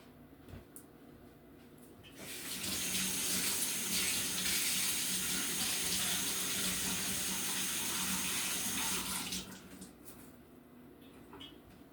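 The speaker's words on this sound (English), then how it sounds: "I'm just going to wash my hands" Water runs steadily from a kitchen tap as hands are washed under it, a strong continuous splashing rush for about seven seconds between quieter room sound, with no talking.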